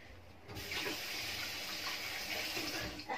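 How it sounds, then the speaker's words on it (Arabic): Tap water runs into a sink as hands are washed in a home kitchen: a steady splashing hiss that starts suddenly after a short pause and continues alone, fairly faint. "اغسل ايدي بس كده"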